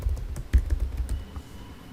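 Password typed on a computer keyboard: a quick run of soft, close key clicks with uneven spacing, tapering off after about a second and a half.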